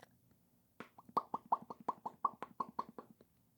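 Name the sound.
voice imitating a fish noise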